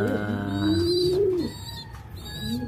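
Racing pigeon breeder cooing up close, a low rolling coo with rising and falling tones and soft chirps in the background.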